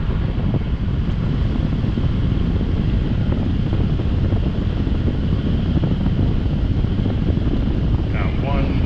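A battery-powered fan, DeWalt or Ryobi, running on high speed, giving a steady loud rushing whoosh of moving air that fills the whole stretch without pause.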